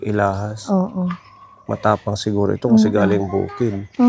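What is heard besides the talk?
No everyday noise stands out behind the speech.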